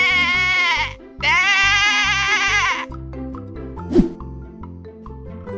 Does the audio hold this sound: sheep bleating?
yes